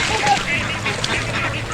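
A flock of ducks being herded across rural Central Java, a loud continuous chorus of quacking close by, with a person's voice mixed in.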